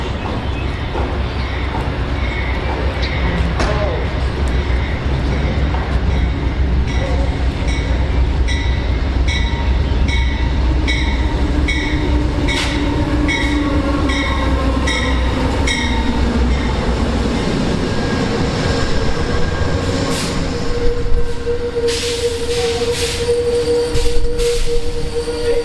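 An Amtrak passenger train rolls past on a Northeast line with a loud, sustained roar and rhythmic wheel clatter. Brief squeals and clicks come through near the end, with no voices.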